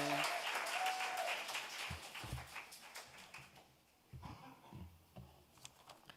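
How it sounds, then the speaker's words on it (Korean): Church congregation applauding at a baptism service, a burst of clapping that fades after about two seconds, followed by scattered taps, shuffling and faint voices in the hall. "큰 박수로 격려해 주시면 감사하겠습니다"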